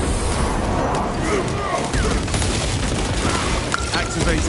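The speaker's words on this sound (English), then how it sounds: "Throwing shock grenade" A shock grenade detonates amid dense battlefield gunfire and explosions in Warhammer 40k Space Marine 2, a loud continuous barrage of booms and crackling impacts.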